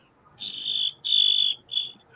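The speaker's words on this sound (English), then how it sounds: "I'm whistling with my mouth." Three high, steady mouth whistles, each held for about half a second with short gaps between them, close and fairly loud over quiet background.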